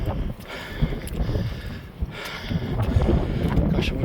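Gusty wind rushes across open fields on a countryside walk, a rough, fluctuating roar that swells and dips throughout.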